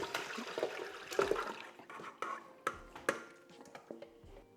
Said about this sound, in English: I'm going to pour off the brine off our chicken wings.